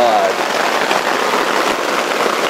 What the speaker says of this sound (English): it started pissing the rain